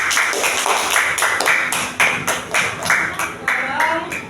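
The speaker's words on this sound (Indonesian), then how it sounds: "Silakan kasih tepuk tangan." Students in a school classroom clap for a presenting group, sharp close claps in uneven bursts with some chatter and voices underneath.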